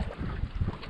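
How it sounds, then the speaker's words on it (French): Wind gusts at the seashore on a spearfishing outing on the Vendée coast, giving a rough, fluttering rumble over the microphone with the sea moving behind it. "Il y a quand même du vent."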